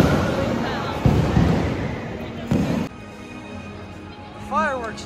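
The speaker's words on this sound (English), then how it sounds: "Fireworks just started." Fireworks at Mickey's Not-So-Scary Halloween Party at Disney World pop and boom in a few sharp bursts against crowd murmur, followed by a short whistling rocket near the end.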